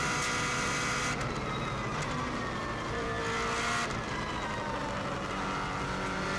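A 2016 Subaru WRX STI races flat out on the Isle of Man TT course, giving a loud, continuous engine and road roar with no talking.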